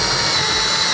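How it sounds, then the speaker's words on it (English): A power drill bores holes through PVC pipe, a loud, steady high-pitched whine that runs without a break, with no talking. "we're just going to drill holes all the way through"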